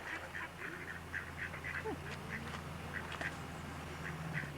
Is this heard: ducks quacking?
yes